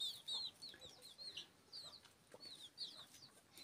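Chickens cluck in short, faint, scattered bursts at a distance, a quiet farmyard murmur with no one talking.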